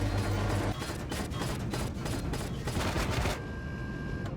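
Sustained rapid gunfire in the survival game Empyrion: Reforged Eden as attackers shoot at a base's core, a dense continuous fusillade of overlapping shots that drops to a quieter hum near the end.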